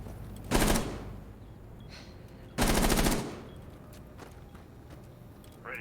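Two loud bursts of rapid gunfire in a competitive shooter match, each about half a second long, separated by quieter background game noise and faint footstep-like clicks.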